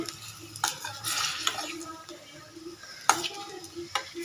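Food being mixed in a pan while cooking for a Diwali festival, giving a few scraping, clinking stirs with soft sizzling between them, close and moderately quiet, with no talking.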